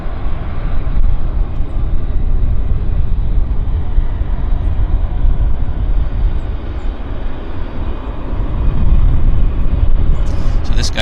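An airliner arriving at Vancouver airport after a flight from Whitehorse makes a steady, loud engine roar that runs throughout and swells slightly toward the end.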